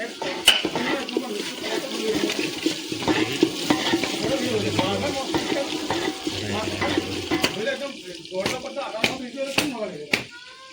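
Onions and meat cooking in a pot at an outdoor picnic, with a continuous sizzle and bubbling, frequent stirring and scraping, sharp clinks of utensils, and people talking nearby.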